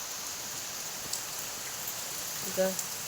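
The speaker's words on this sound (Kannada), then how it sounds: "ನಿನ್ನೆಯಿಂದ ಮಳೆನೇ ಬರ್ತಾ ಉಂಟು ನೋಡಿ" Steady rain falling, a soft continuous hiss with a few faint drips and a brief distant voice near the end.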